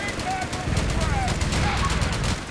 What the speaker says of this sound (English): there's a machine gun back here